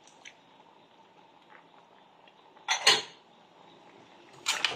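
A utensil stirring a shrimp, crab and squid dish in a pot, giving two loud, close scraping clatters separated by quieter moments.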